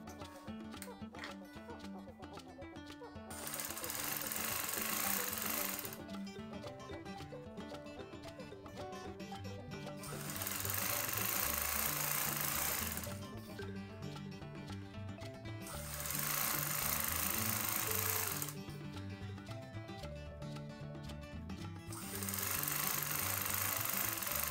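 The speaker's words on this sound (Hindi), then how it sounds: "मैं इस तरह बाहर की तरफ सिलाई लगाऊंगी।" Sewing machine stitching trouser seams, repeated long runs of fast rattling stitching lasting a few seconds each, alternating with quieter gaps of handling, close and steady.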